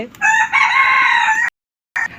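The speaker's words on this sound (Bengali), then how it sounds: "আর আবার মোরগ মুরগিগুলো সেই ডাকে" A rooster crows loudly and close by in one long, strained call, then starts a second crow that cuts off after a short pause.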